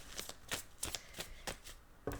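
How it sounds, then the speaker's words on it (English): A deck of cards with stiff, poor card stock is shuffled in several sharp riffling bursts at a roughly even rhythm, close up and with no voices. "This is the worst deck I have ever tried to shuffle."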